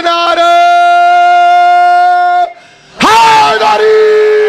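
A crowd at a Shia religious celebration for the birth of Imam Zain ul Abideen raises slogans together, two loud, sustained unison shouts separated by a brief pause.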